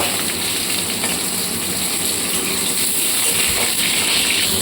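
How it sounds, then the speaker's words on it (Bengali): Pointed gourd slices frying in very hot oil in a wok give a steady, dense sizzle and crackle, close and continuous for a few seconds with no talking. "তেলে এবার পটলগুলোকে দিয়ে দেবো।"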